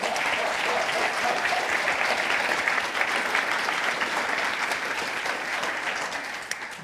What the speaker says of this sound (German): Super, gebt ihm einen Applaus.